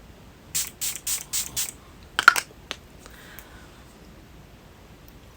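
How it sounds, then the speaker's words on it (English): A few quick spritzes of an Alicia Keys facial mist, five short bursts in a row followed by a couple of sharper sprays, close and fairly loud with no talking. "So this we're just gonna spritz."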